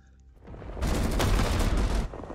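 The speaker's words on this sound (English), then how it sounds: "we're taking fire" Dense gunfire in the Vietnam War shooter Rising Storm 2 with ARVN forces, swelling into a loud, sustained volley of overlapping shots and rumbling booms that holds steady before easing off.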